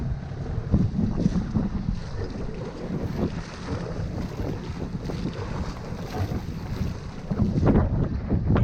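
A sailboat heeling hard under sail in strong wind, with heavy wind buffeting on the microphone, rushing water and slapping waves against the hull, loud and continuous with gusty surges and no speech.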